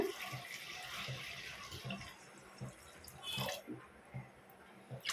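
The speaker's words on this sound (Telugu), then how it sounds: "ఇలాకి వాటర్ అయితే పోస్తున్నాను" Water poured into soaked lentils in a pot for drumstick and bottle gourd sambar, a faint uneven pouring and sloshing close by, with a few soft splashes.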